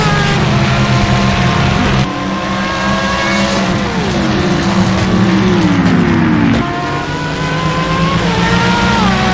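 A Corvette race car engine in a multiclass endurance sim racing game drones loud and steady, with shifting revs and gear changes as other cars howl close alongside, the pitch sliding down under braking and rising again.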